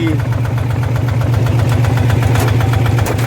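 A Kubota 141 diesel tractor with an EC engine running close by, a loud, steady, rapid thumping idle with a constant rhythmic knock, while someone talks over it.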